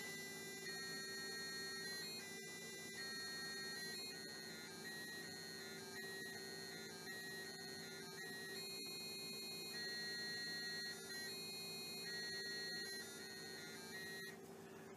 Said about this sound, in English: the next instrument is the buzzer, and we'll play one of those tunes